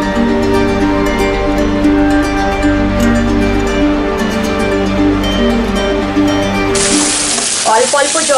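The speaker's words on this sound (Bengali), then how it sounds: "দিয়ে দিচ্ছি কেটে রাখা আলু আর উচ্ছে একসাথে দিয়ে দেব" Potatoes and bitter gourd hit a pan for a Bengali fish-roe uchche chochchori, producing a loud, steady frying hiss. A sharper, brighter sizzle bursts in during the final seconds.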